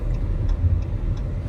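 Interior of a moving car, with a steady low road rumble and engine drone throughout and faint regular ticking, no talking.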